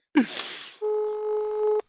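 A short burst of noise, then a sustained electronic telephone tone holds steadily for about a second before cutting off sharply.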